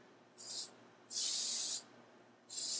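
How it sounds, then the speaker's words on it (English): Three bursts of hissing spray from a spray gun lightly coating wooden table legs, short then longer, separated by brief pauses, close and fairly soft. "We're going to do a gentle light spray on each leg and across."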